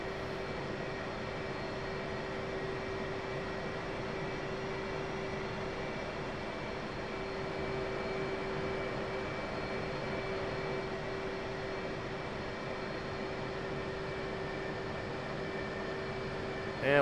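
Blue Angel jet in DCS World taxiing and coming to a stop, heard as a steady engine whine and hum with a faint tonal drone, even and moderately quiet, with no speech.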